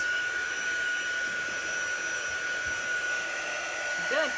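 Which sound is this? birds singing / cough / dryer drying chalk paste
dryer drying chalk paste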